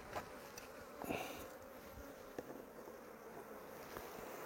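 Honeybees buzz around an open hive being inspected, a steady close hum with individual bees zipping past the microphone and light wind noise; no talking.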